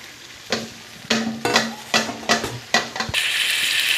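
Goat meat sizzles loudly in a hot pan as it is stirred and fried. Rhythmic scraping strokes come about every half second, then give way to a steady, close frying hiss.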